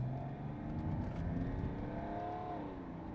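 Big Mercedes diesel sedan, W123, W124, W210 or W211, pulling away from standstill in manual mode with engine rising and shifting, heard from inside the car, fairly muffled with no talk.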